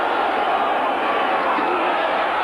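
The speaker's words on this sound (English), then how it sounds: "the crowd now is really fired up at the urging of Gastineau" Football stadium crowd at a 1985 Dolphins–Jets game roaring steadily, loud and continuous like a wash of noise, fired up by a defensive player's urging.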